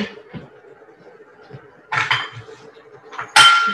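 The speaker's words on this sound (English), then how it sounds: "I'm just going to mix it all up, and I'm going to let the mixture cook for a couple of minutes" A shakshuka mixture being stirred in a pan, giving sparse light clinks and scrapes of a utensil against metal, a few louder knocks near the end, over a quiet background.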